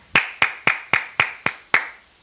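Seven sharp, evenly spaced hand claps ring out alone at close range, each with a short echoing decay.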